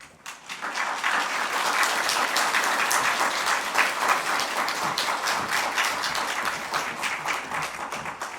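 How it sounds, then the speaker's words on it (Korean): A church congregation gives sustained, loud applause welcoming a pastor, many hands clapping together in a dense patter that carries on for several seconds. "나오실 때 큰 박수로 환영해 주시면 좋겠습니다"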